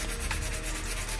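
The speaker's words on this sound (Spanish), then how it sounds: "La verdad que la lija ayuda un poco a sacar." Sandpaper rubbing over an old bike frame to strip off a sticker, a close, continuous gritty scraping in quick repeated strokes with no talk.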